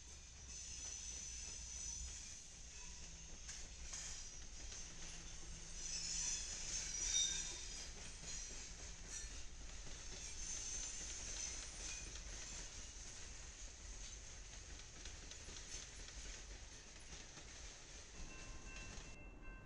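A Norfolk Southern freight train carrying a high and wide load, with a caboose at the end, rolls past in a steady, moderately loud rumble of wheels and rail noise that lasts throughout, with no voices.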